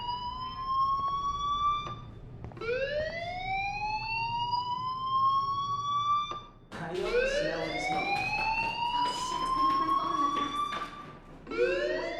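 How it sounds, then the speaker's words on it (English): A school fire alarm in the video game Life Is Strange sounds as long rising electronic whoops, repeated about four times, loud and steady, with a brief voice over the background. "Hey, do you hear that fire alarm?"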